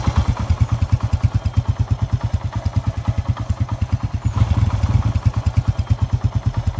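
Suzuki Fiero 150cc motorcycle engine idling close by, a steady low thumping exhaust pulse with rapid even rhythm and a slight swell in revs midway, no voices.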